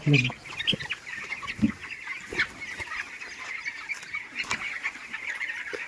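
Chickens cluck and squawk steadily over a low background murmur, the calls coming from a short distance in a busy, ongoing chorus.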